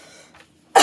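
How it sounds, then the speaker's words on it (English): A single sharp cough bursts out loudly near the end, after a stretch of near silence with a faint breath. "Okay, I keep coughing."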